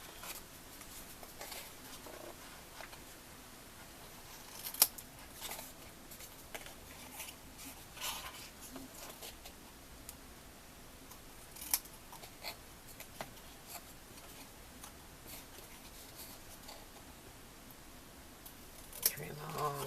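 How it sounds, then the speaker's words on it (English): Scissors trimming the edges of paper for a Christmas craft project, faint scattered snips and paper rustles against a quiet indoor background, with no clear speech. "just trim off these edges so that when we glue it down, you have a nice corner"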